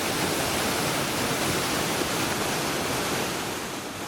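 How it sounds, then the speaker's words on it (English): The River Tees cascades over hard dolerite rock along the Pennine Way, giving a steady, broad roar of rushing water that stays constant and fairly loud throughout, with no voices. "The Pennine Way passes alongside the River Tees, which cascades through an area of hard dolerite rock known as the Wind Sill."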